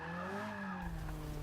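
A Ferrari 458 Italia's tires skid as the car runs off onto the grass, a sliding squeal over a droning engine tone, then a rougher rumble of grass and dirt under the wheels.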